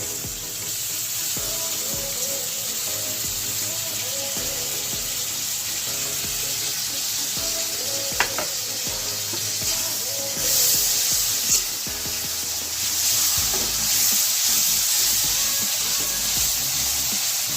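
Tomato paste lands in hot oil with fried ginger and spices for a jackfruit and prawn curry, giving a steady broad sizzle that holds for a long stretch, with a few faint clinks and no talking.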